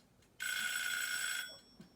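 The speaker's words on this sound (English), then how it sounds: "Oh, that's my alarm." A phone alarm rings, a loud, bright electronic buzz held steadily for about a second, then cuts off, with a quiet room around it.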